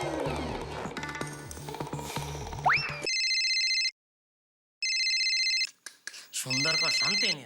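An electronic telephone ring trills in bursts with a short silent gap, following a stretch of music and voices.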